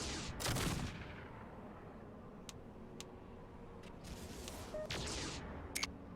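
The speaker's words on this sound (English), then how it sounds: "I feel like we are shooting less than before" Mechs trade gunfire in Mech Commander 2, a quiet, steady crackle of distant shots with a few sharper isolated reports standing out near the start and toward the end, no voices.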